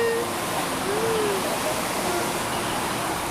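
A river flows beside a campsite at Bedengan in Malang, giving a steady, even wash of rushing water that fills the whole stretch, with faint thin whistling tones drifting over it.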